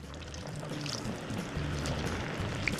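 Cooking oil pours steadily into a pan for frying homemade protein-rich snacks, a continuous close splashing trickle with no talk.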